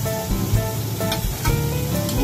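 Oyster omelette of starch batter, egg and oysters sizzling on a hawker stall griddle in a Penang food court: a steady, close frying hiss with a few clanks and scrapes of the spatula against the hot surface.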